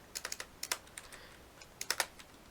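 Keystrokes on a computer keyboard while a video description is typed, coming in short quick bursts of clicks with brief pauses between, close and fairly quiet.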